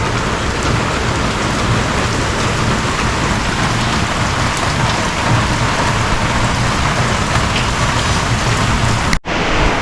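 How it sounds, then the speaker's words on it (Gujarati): Heavy rain pours steadily and loudly, a dense continuous hiss with a deep rumble underneath, cutting off abruptly near the end. "બહાર મસ્ત વરસાદ ચાલી રહ્યો છે"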